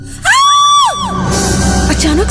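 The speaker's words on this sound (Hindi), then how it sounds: "उसके जोर से चीखने की आवाज आई" A woman screams loudly in a sharp, high, sustained shriek, followed by a thud and confused crowd-like commotion, in a horror drama scene.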